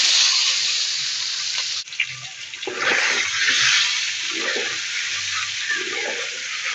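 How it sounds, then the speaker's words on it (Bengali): Peeled boiled eggs rubbed with turmeric and salt sizzle and crackle loudly in hot oil in a kadai, a steady close frying hiss with a brief dip partway through as they are turned. "কড়াইয়ে তেল গরম করে ডিমগুলোকে লাল লাল করে ভেজে নেব"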